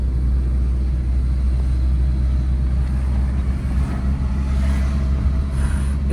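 A car accelerates on the road during a driving lesson, its engine rumbling low and steady close by, with no pause in the drone.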